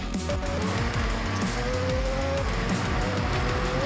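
A Mazda RX-7 in the racing game Forza Horizon 6 roars at high revs on a cross-country run, its loud, continuous engine note shifting pitch with gear changes and mixed with tire noise, no pauses throughout.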